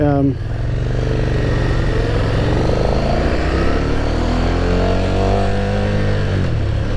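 A KTM 1290 Super Duke R motorcycle ridden without a quick shifter gives a loud, close engine roar whose pitch climbs steadily through a gear, dips sharply, then holds a strong rising drone.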